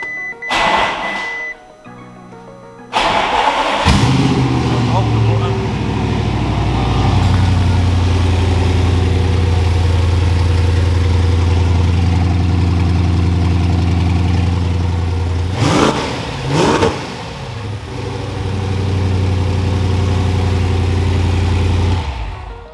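An Audi RS6 engine, freshly rebuilt after a wreck, cranks and catches at about three seconds, then settles into a loud, steady idle up close, with a couple of brief blips partway through.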